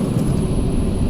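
Carenado SAAB 340 turboprop taking off in the Prepar3D flight simulator, a loud, steady low engine roar filling a brief moment with no voices.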